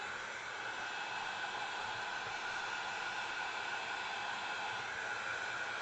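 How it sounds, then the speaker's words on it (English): Heat embossing tool blowing hot air over embossing powder on a card, a steady, even hissing whoosh held for several seconds without break. "I'm going to heat emboss this one more time."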